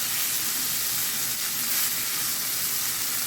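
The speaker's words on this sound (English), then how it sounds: "So I'm just gonna saute this and get rid of the potentness of the herb." Coconut curry with herbs sautéing in a pan for coconut curry shrimp, giving a constant, close, dense sizzling hiss with no pauses.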